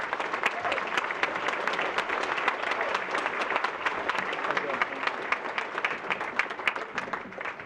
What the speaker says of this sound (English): please give a warm round of applause to San Mateo County District Attorney Steve Wagstaff